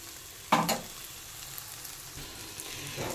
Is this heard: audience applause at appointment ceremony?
no